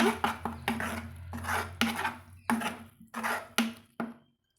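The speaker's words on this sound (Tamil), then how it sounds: "இது கூடவே கொஞ்சமாக மல்லி இலைகளையும் சேர்த்து நம்ம வதக்கி விட்டுக்கலாங்க" Tomato and coriander leaves sautéed in a pan for chilli chapati, heard as repeated scraping strokes of a spatula against metal, about eight to nine distinct sweeps close by, with no voices.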